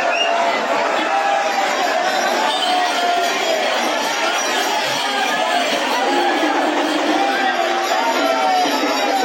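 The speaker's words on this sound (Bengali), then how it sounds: "লক্ষ লক্ষ ভক্তর ভিড় আজকে তৃতীয় সপ্তাহে, ভক্তরা যাচ্ছে" A huge, dense crowd of devotees at Tarakeswar railway station during the Shravan pilgrimage, a steady roar of overlapping chatter and calls filling the whole stretch at close range.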